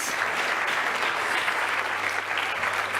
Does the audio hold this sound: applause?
yes